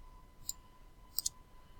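Three quiet, sharp computer mouse clicks while working in Adobe Illustrator: a single click, then a quick pair close together, over a faint steady hum.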